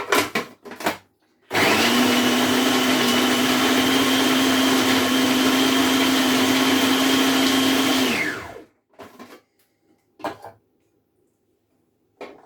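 An electric mixer grinder runs for about six and a half seconds, grinding onions for thuvayal, a traditional chutney, with a loud, steady motor whine. Close clicks and knocks of the jar and lid come before it starts and after it stops.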